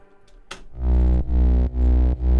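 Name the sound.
distorted layered synth bass line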